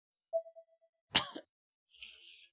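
A character in the video game Corpse Party: Blood Drive gives a short, sharp cough, faint and isolated after a small plop, followed by a soft breathy hiss.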